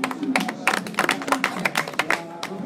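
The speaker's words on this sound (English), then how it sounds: "Very hard clap for the guy" An audience clapping for a speaker at an English language club gathering in Sudan, brisk rapid claps from a small group over a few seconds, fairly near and moderately loud, with no talking.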